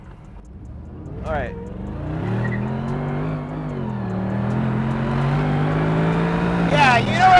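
A Mercedes SLR engine revs and pulls hard from inside the car, its tone climbing in rising sweeps and growing louder, with a person speaking briefly near the start.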